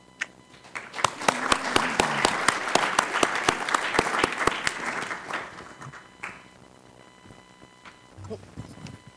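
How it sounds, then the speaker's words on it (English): A conference audience applauds the panel speakers at a plenary session, with dense clapping building over several seconds and then tapering off into quieter room noise. "So I think with a round of applause for our speakers"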